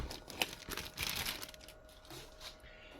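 Plastic packaging crinkles and tears as it is peeled away from a Horus action figure, a run of close, uneven crackles with a sharper snap early on and softer rustling that trails off.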